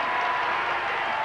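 Stadium crowd applauding sprinter Pietro Mennea after his 1972 European-record 200 m run, a steady, dense wash of clapping from a large audience, brief and unbroken.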